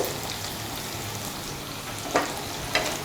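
Gram flour is stirred into sizzling Gujarati sambharo in a hot pan, giving a continuous crackling fry hiss with a couple of brief spoon scrapes near the end.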